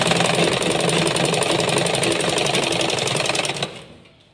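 Sewing machine stitching a fall onto a saree at medium stitch length, a steady fast mechanical chatter running continuously before stopping abruptly near the end.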